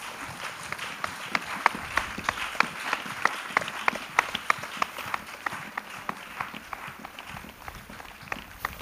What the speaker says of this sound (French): Acclamez. Clap.